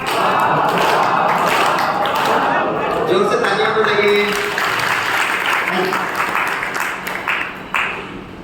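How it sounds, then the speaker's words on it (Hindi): An audience at a Brahma Kumaris health talk claps loudly and steadily, dense applause filling the room before tapering off toward the end, with some voices mixed in. "जोर से तालियां बजाइए।"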